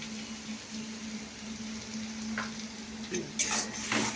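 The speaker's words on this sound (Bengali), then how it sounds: "এবার এটাকে মশলা কষতে হবে।" Ground spices with turmeric, salt, cumin and chili powder are sautéed in oil in a pan, giving a steady close sizzle with a low hum beneath and clattering stirring strokes growing louder toward the end.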